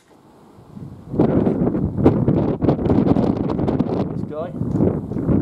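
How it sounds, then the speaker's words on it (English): Strong gale-force wind buffets the microphone outdoors at a cold pistol shooting range, a steady loud rushing roar that runs under a man's brief speech. "Blowing a gale"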